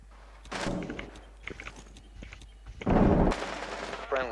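Rainbow Six Siege gunfire bursts out in two loud stretches, a short volley early and a denser, longer burst near the end, with quieter game noise and faint talk in between.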